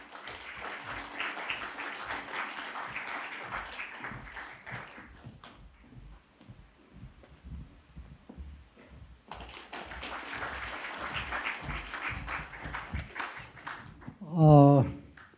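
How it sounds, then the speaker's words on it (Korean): An audience at a grassroots autonomy awards ceremony applauds to welcome the provincial governor, sustained clapping that thins out midway and swells again, ending with a loud, brief voiced exclamation near the close. "여러분, 역시 큰 박수로 환영해 주시기 바랍니다."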